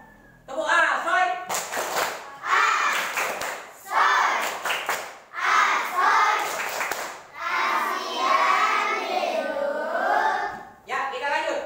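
Indonesian elementary schoolchildren in a classroom perform the Tepuk Soy clapping routine, with loud group chanting broken by sharp, rhythmic bursts of hand claps throughout.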